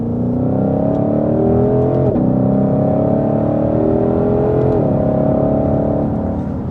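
A Ford Mustang Shelby GT500 with 760 hp runs hard on the road, a loud, steady engine drone that climbs in pitch, with two brief dips like gear changes.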